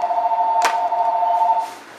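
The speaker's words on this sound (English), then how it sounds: "there's a phone ringing" Telephone ringing indoors during a trading card unboxing, a steady electronic tone held for almost two seconds with a brief click partway through, fairly close and alone with no talk.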